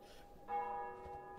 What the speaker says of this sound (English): You can very faintly hear the bells in the background letting you know that I ran out of time.